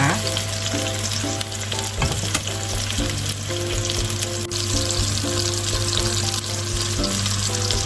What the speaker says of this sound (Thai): เดี๋ยวพี่จะทอดให้เขาออกเหลืองสักเล็กน้อยนะคะ เหลืองกรอบๆเลย